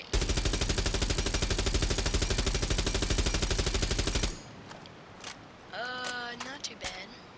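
An operator's gun in Rainbow Six Siege fires in a rapid, continuous automatic burst for about four seconds, then stops, leaving quieter game noises while a voice talks.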